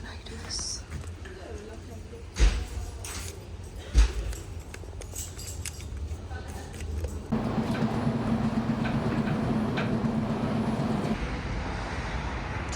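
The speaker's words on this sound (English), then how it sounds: "So okay, I'm on the train" A train ride to Szentendre, Hungary: steady carriage rumble with a few knocks, rising to a louder, even rolling drone partway through as a voice speaks over it.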